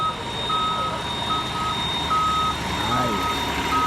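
A truck's reversing alarm sounds as regular repeating beeps over a rumbling engine, with fire rescue activity at an apartment complex nearby.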